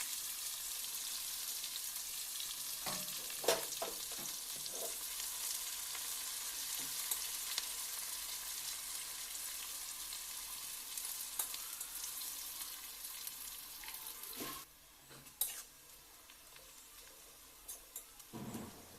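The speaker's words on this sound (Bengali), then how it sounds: "তো দেখো ওর পেঁয়াজ ভাজা প্রায় হয়েই গেছে, ব্রাউন ব্রাউন হয়ে গেছে।" Chopped onions sizzle and fry in hot oil in a home kitchen, a steady crackling hiss broken by the scrape and clink of a spoon stirring the pan, with no talk.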